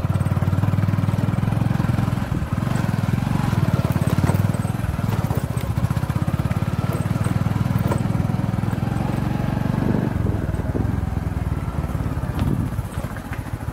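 A two-wheeler motorcycle rides a rough, broken forest road, its engine droning loud and continuous from start to finish with rattling bumps layered over the steady hum.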